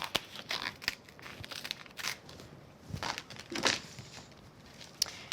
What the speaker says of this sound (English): just let me get hold of that edge there, peel it up nice